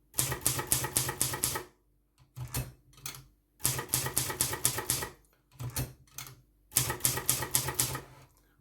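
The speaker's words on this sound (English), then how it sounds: "we need to engage the carriage return lever, which is this lever here" Bursts of rapid Silver Reed manual typewriter keystrokes separated by short pauses, with the clunk and slide of the carriage return lever returning the carriage between lines; close and clear, no talking.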